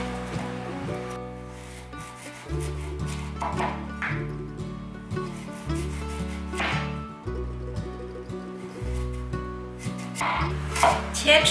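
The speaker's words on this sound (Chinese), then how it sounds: "现在先对半切，再来切厚片。" A knife cuts peeled taro into halves and then thick slices on a board, giving a series of distinct chops spaced a second or two apart, close and clear over steady background music.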